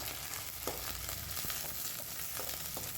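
Onions and curry leaves frying in oil for Andhra-style gongura chutney, a continuous soft sizzle with intermittent stirring clicks, moderately quiet and close.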